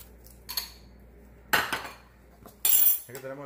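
A knife cutting a cucumber on a board, with a few sharp, separate knocks and clinks of the blade spaced by short pauses, and a brief clatter of utensils at the end.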